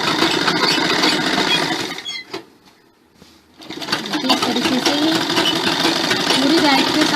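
A sewing machine stitches along a salwar belt in a rapid, steady mechanical chatter, pausing for a second before running on again, heard close up with a voice speaking over it.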